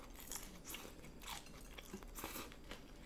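Crisp crunches from biting and chewing a fried seaweed roll (kimari) during an eating session, several sharp bites and crackly chews close to the microphone, quiet between crunches and free of speech.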